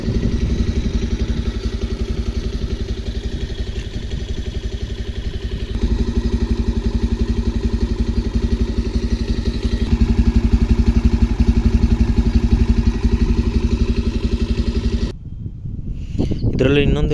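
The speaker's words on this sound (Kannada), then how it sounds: "ಇದ್ರ ಇಂಜಿನ್ ಸೌಂಡ್ ಈ ಥರ ಇದೆ." A Bajaj Pulsar 150 standard motorcycle in black and silver idles with an even, close, throbbing mechanical rhythm for about fifteen seconds before the sound abruptly changes.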